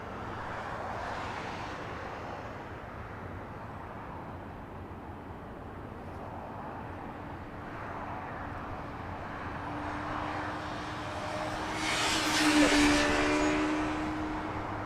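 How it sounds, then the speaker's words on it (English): Delta Airbus A319, 19 years old, at Los Angeles International Airport, a distant airliner engine roar rising gradually and swelling loudest near the end, with a faint whine over a steady background rumble. "A little A319 flying to Las Vegas, Nevada."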